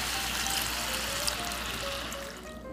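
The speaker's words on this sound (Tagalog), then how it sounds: "isunod na po natin yung tubig." Water poured into a cooking pot for chicken menudo, a continuous close splashing trickle that tapers off at the end, with no talking.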